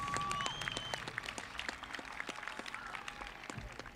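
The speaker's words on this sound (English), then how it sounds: "I think we all need one more round of applause for us all." Applause from the audience at the 2024 Concord High School graduation ceremony, fairly distant and moderate, with scattered claps and crowd noise fading over four seconds while a few whistles or cheers rise above it.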